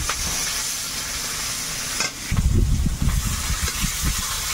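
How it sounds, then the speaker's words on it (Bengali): Chopped onion hits hot oil in a pan and bursts into a loud sizzle, a steady frying hiss that swells sharply partway through and keeps crackling afterward. "তেলের মধ্যে পেঁয়াজ কুচি দিলাম"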